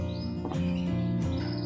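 A canary, a young hen kept for breeding, gives short high chirps at close range, a few brief calls over a steady background hum.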